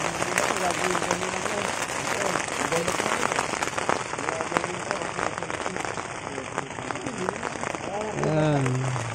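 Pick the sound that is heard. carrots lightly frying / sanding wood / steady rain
steady rain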